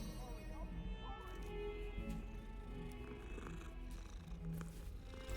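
A cat purrs continuously and close up, a low rumbling vibration held throughout, with a voice talking over it.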